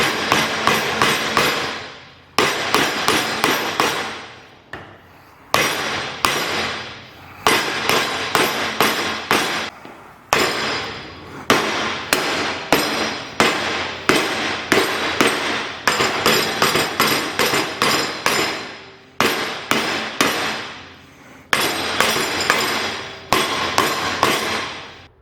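A hammer strikes a 3/16-inch aluminum piece in rapid bursts of sharp metallic blows, close and loud, separated by short pauses.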